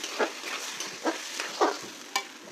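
Food sizzles steadily in a pan as rice is sautéed, with a spoon scraping and stirring in several close strokes and a soft frying hiss throughout.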